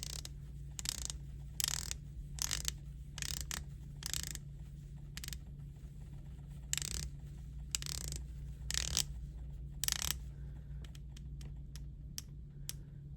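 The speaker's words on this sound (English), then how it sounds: "good bezel action on the Omega" Omega ceramic dive watch bezel turned by hand, giving a run of sharp, close ratcheting clicks in short bursts with pauses between, over a low steady hum.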